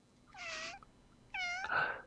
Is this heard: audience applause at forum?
no